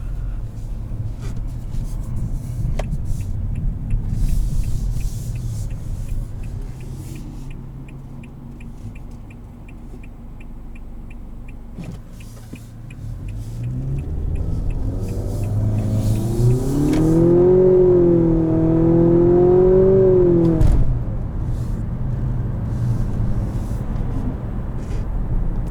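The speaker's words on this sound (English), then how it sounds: "Doesn't sound like any other 4-cylinder I've ever heard" Turbocharged four-cylinder engine of a 2019 Nissan Altima Platinum accelerates, heard from inside the car, with a rising, wavering engine note that swells loud for several seconds before easing back to a steady road hum.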